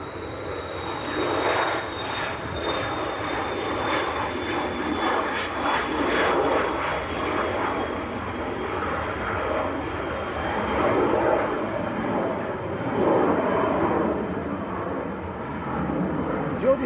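A Cessna Citation business jet departs Leeds Bradford Airport, a steady broad engine roar holding throughout at moderate distance while people talk over it.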